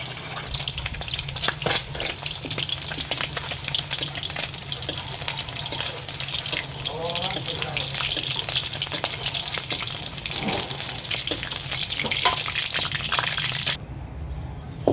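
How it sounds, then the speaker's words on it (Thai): A fried egg sizzling in hot oil, loud, dense and continuous throughout, with faint scrapes and clinks from a utensil over the spattering and no voices. "ทอดไข่ดาวให้น้องก่อน"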